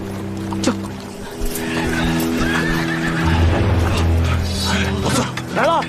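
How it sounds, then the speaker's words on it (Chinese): In a Chinese martial-arts film scene, a horse whinnies loudly and close by near the end. Fainter hoof and movement sounds and a low rumble run underneath, with voices speaking over parts of it. "好像有马蹄声。"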